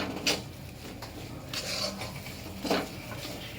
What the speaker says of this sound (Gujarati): આ ચણાના લોટને આપણે ઘીમાં બરાબર શેકવાનો છે.